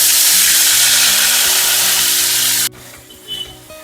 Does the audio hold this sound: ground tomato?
yes